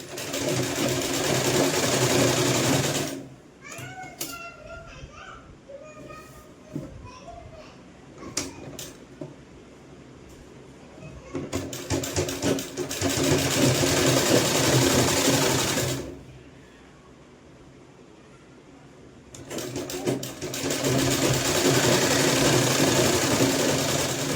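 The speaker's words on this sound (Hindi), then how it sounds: "ये जो हम सिलाई लगाएंगे तो ये देखिए एक पैर के गैप से लगानी है" A sewing machine runs in bursts while stitching a sleeveless kurti, loud steady whirring stretches broken by quieter pauses, with occasional clicks and handling noises in between.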